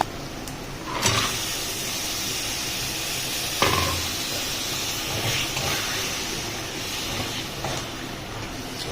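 Peas and potatoes go into hot oil, giving a steady, bright frying hiss that runs throughout, with a couple of sharper bursts near the start and middle as more goes in.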